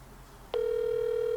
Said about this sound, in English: we're calling back Greg Smith